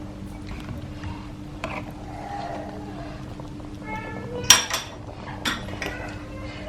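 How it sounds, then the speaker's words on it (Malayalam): Spoon scraping and clinking against a pan while butter chicken curry gravy is stirred in a kitchen, with a few louder metallic knocks over a steady low hum. "നന്നായിട്ട് മിക്സ് ചെയ്ത് കൊടുക്കാം."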